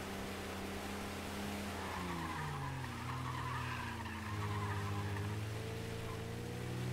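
Car engine drones steadily in the video game Mafia, with tires skidding and squealing as the car drives, the rising and falling engine pitch continuous throughout with no talk.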